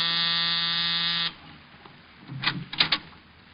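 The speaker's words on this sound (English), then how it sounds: "I was punching the buzzer to Saxon's apartment." An apartment door buzzer in a 1950 radio drama gives one long, harsh, continuous buzz that cuts off abruptly, followed by quiet room noise and a few brief voices.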